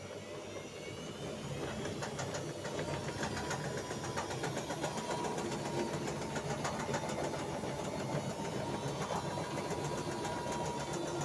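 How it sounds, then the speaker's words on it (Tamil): A washing machine runs with a steady mechanical drone and fast, even rattling as it shakes on its base, continuous and fairly close throughout, with no talk. "எங்கள் வாஷிங் மிஷின் எப்படி ஆடுதுன்னு பாருங்கள்"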